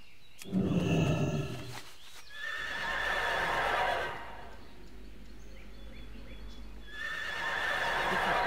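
A horse mount in World of Warcraft neighs in a loud, whinnying burst near the start. Softer, breathy whinnies follow, the last rising at the end, with quiet hoof-like clip-clops in between and no talking.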